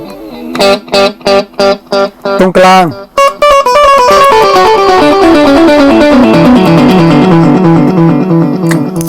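A 1980s Japanese Maxon DD01 digital delay on an electric guitar: a few loud, separate plucked notes, then a fast run whose echoes pile into a dense, shimmering wash of repeats. A voice speaks briefly over it.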